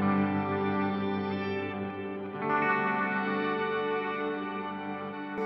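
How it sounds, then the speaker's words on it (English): Sustained electric guitar chords drenched in rotary-speaker swirl, shimmering octave reverb, reverse and bucket brigade delays and reverb, changing chord midway, loud and alone. "Here's the wet with some rotary, shimmer, reverse delay, and bucket brigade delay and reverb."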